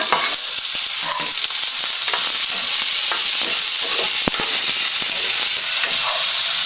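Ginger sautéing in hot cooking oil in a frying pan, a loud, steady sizzle and crackle that runs throughout with a few faint stirring clinks.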